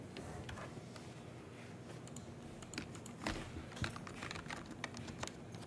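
Keys on a computer keyboard tapped in a steady run of light clicks, with a few louder strokes toward the end, close and fairly quiet in an indoor room.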